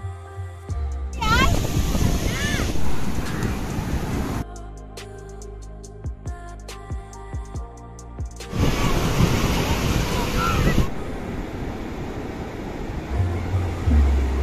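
Waves and wind on the sea beach at Puri, a loud roaring wash of surf and gusty wind noise that rises and falls in bursts, with voices heard at times.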